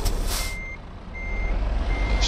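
Truck reversing alarm in Euro Truck Simulator 2, three evenly spaced steady beeps over a loud low engine rumble, with a short hiss of air release at the start and end.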